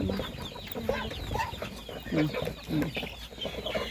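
Chickens at a grandmother's garden farm cluck in short bursts, fairly close but soft, with faint background sounds and bits of other bird calls around them.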